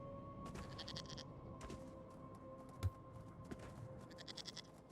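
A goat bleats in the Elder Scrolls Online video game, set against a steady game music and ambience bed, with a sharp thump near the middle and a few small clicks toward the end.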